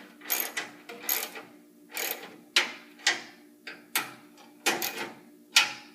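Bolts on a 1966 Ford Mustang grille are snugged up with a ratchet, giving short bursts of rapid, close mechanical clicking repeated about eight times at an uneven pace, with no talking.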